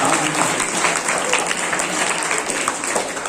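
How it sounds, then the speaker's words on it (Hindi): Dense, continuous applause from a large crowd, loud and steady throughout without a break. "आपके स्कूल के लिए भी मैं जोरदार तालियां आपसे चाहूंगा"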